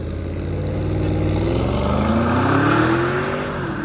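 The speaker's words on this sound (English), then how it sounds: "Yes, a V8 engine. Sounds perfect, sounds great" The 4.0-litre V8 of an Audi SQ7 SUV gives a loud, deep burble that rises steadily in pitch as it builds revs, with no one talking.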